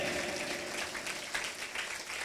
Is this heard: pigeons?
no